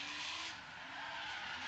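A street-class drift car at Redding Motorsports Park in a drifting competition, yanking the e-brake and clutch-kicking through a corner, its tires giving a loud, continuous screech over engine roar.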